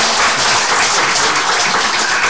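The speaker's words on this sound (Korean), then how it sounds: "박수 한번 할까요?" Church congregation applauding during a thanksgiving service for founding a branch church, a steady, full wash of many hands clapping close by throughout, with no talk over it.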